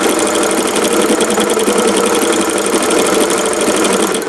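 A Singer 401A sewing machine runs with a ruffler foot at a short stitch length, giving a steady, loud mechanical whir and rapid clatter that carries on unbroken throughout, with no talking.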